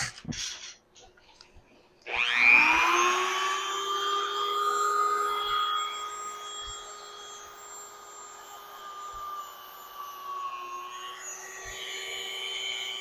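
A Dremel rotary tool polishing kicks in after about two seconds of near quiet, then holds a loud, steady high-pitched whine whose pitch drifts slightly as it moves across the surface.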